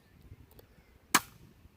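A single HW100T air rifle shot fired with a moderator fitted: one sharp, short crack that dies away quickly, fairly subdued for a gunshot, against a quiet room background.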